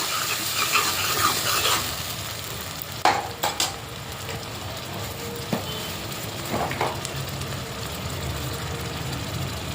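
Fried onions sizzle and crackle steadily in a pan as tomato puree is added, with a few sharper clinks and stirring scrapes over the continuous frying hiss.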